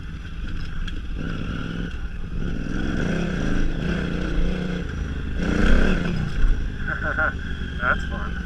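KTM 950 Adventure motorcycle riding off-road over a rise, its engine droning steadily and then swelling briefly as it climbs, with rattling and clatter near the end.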